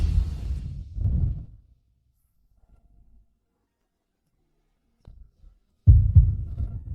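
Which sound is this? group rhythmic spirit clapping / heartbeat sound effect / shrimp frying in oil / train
heartbeat sound effect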